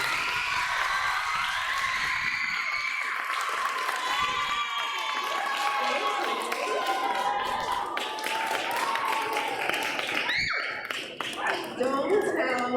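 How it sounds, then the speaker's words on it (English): A middle school audience claps and cheers in a dense, sustained burst of applause that carries on for several seconds, with shouts and voices mixed through it before it tapers near the end. "So, can we all please give a big round of applause?"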